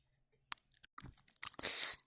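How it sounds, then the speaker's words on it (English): Ear-eating ASMR mouth sounds: close, wet chewing and smacking clicks, sparse at first, then dense crunchy chewing in the final second, recorded intimately and quietly. "Let's listen to pure ear eating ASMR"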